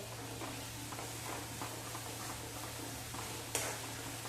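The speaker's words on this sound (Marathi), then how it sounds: "ह्या इथं आता मसाला छान असा परतून घेते त्याला छान तेल सुटायला लागलं" Masala sautéing in oil in a pan, a soft steady sizzle with faint patters and occasional light stirring ticks, low in level, and one brief sharper tap near the end.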